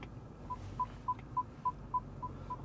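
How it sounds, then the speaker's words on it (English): A BMW E90's parking sensors emit a faint, evenly spaced run of about eight short electronic beeps, roughly three per second, over quiet car-interior hum with no voices. "So it does have park aid sensors though, so I don't know if I'm about to, y'all hear that? The boop boop."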